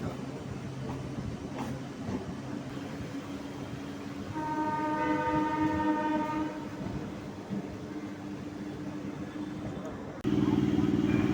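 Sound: train arriving at Eden Gardens station, Kolkata

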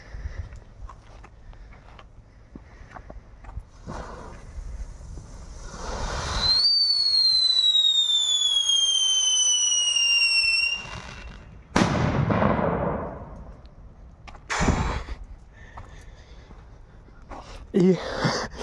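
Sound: old firecrackers exploding

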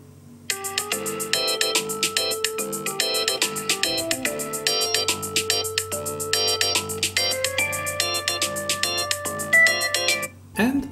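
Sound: iPhone 11 ringtone ringing on incoming call

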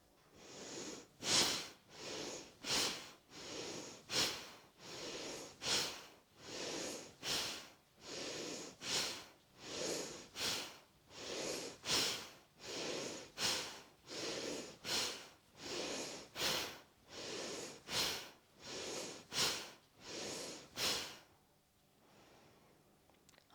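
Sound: rapid forceful bhastrika yoga breathing

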